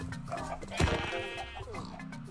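Sheep bleats in Minecraft, one clear wavering bleat rising over a steady bed of game noise and music.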